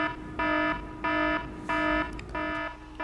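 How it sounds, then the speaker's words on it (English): An alarm clock rings in a steady repeating pattern, giving four evenly spaced electronic beeps of about a third of a second each, loud and alone. "This morning, you might have woken up to the sound of your alarm."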